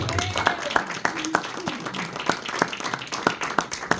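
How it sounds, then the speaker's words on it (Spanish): A church congregation claps along in a steady rhythmic beat during a Spanish-language service, crisp distinct claps at a regular pace with voices underneath. "Dale palmas."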